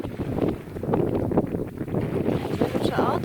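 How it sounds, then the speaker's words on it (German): Steady wind rushes and buffets past the microphone aboard a sailboat under set sails off San Lorenzo on the Italian Riviera, with water noise beneath and faint speech-like murmurs mixed into the continuous roar. "Es ist wieder Wind aufgekommen und wir haben die Segel gesetzt"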